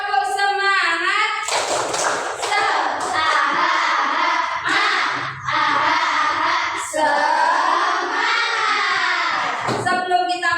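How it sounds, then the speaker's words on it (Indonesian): Schoolchildren in an Indonesian classroom perform the 'tepuk semangat' rhythmic clapping chant, with sharp claps punctuating a steady stream of loud, chanted voices. "Tepuk semangat."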